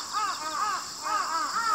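Crows caw loudly and repeatedly outdoors in the morning, harsh calls coming in quick succession against a steady background hum, with no one speaking.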